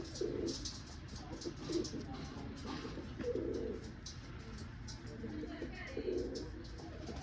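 Pigeons coo in soft repeated low calls every second or so, against a steady background hum and faint chirps.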